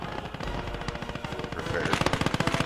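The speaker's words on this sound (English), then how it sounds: "Noticing a bit of artillery" Gunfire in the video game Gates of Hell: dense, rapid bursts of shots that quicken into a steady staccato rattle near the end, set against a rumbling battle backdrop.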